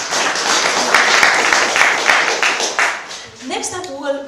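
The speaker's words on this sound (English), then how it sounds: "Let's give a round of applause to Aki" An audience at a piano recital applauds steadily with dense clapping for several seconds, then a voice begins speaking as the clapping fades.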